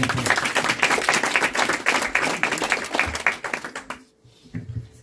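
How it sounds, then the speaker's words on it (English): Audience applause rings out after a Sanskrit verse recitation at a spiritual talk, dense steady clapping for about four seconds before it stops abruptly, leaving quiet room tone. "We'll give Shri a round of applause for that."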